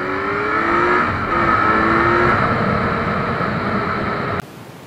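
A Kawasaki Z900 motorcycle's engine and exhaust rumble loudly and steadily under wind roar, with the pitch rising slightly as the engine revs, recorded from the rider's position.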